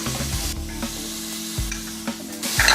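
Fresh green peas, carrot and green chilies sauté in a pan for pea pulao, giving a steady sizzle broken by several sharp scraping stirs of a spoon against the pan, close and clear with no talking.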